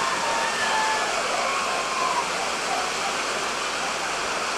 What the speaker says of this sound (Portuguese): E a chuva engrossou, viu, cara? Muita água aqui no estádio Primaverão.